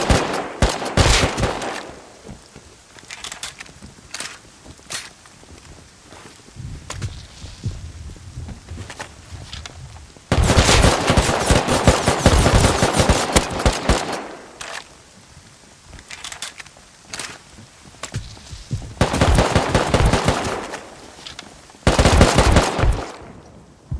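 Bursts of automatic gunfire in a GTA NoPixel roleplay shootout, loud rapid volleys in several clusters separated by quieter stretches with scattered single shots.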